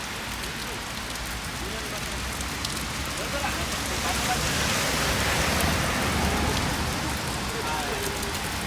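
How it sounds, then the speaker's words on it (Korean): Steady rain falls over an outdoor protest rally, a dense continuous patter that swells slightly midway, with a faint murmur of crowd or voices beneath it. "비가 오고 있습니다."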